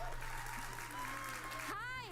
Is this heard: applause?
yes